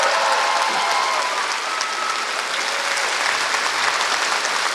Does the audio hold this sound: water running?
no